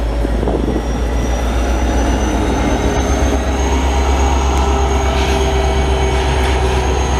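A VIA Rail passenger train rolls through St. Lambert or Dorval station in Quebec, with a loud, steady rumble of wheels on rail and a faint high squeal running throughout, heard close by.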